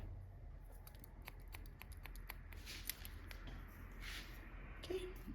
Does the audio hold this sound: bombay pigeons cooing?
no